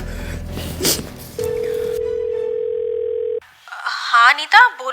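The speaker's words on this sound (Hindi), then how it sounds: "मैं मैडम को फोन लगा के सब बता दूंगी।" A telephone call is placed: a brief rustle, then a loud steady dial tone for about two seconds, followed by short ringing and call-connection tones near the end.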